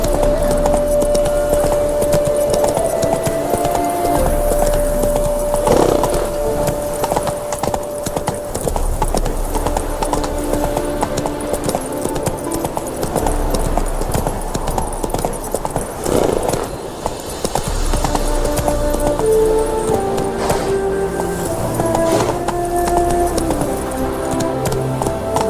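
Roach, a horse in The Witcher 3, gallops with steady, rapid hoofbeats that stay loud and close for the whole stretch, with faint background sounds and no clear talk.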